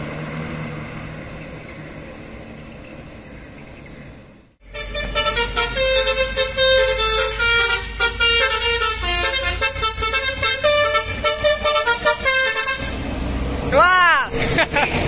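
A Hino RK coach in Jember, Indonesia, blares a loud, melodic multi-tone horn in repeated bursts over a low diesel engine rumble. A short quiet stretch comes first, then a final rising horn sweep.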